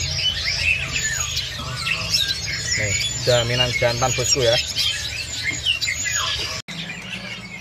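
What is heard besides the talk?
black-throat crossbreed songbird calling at bird market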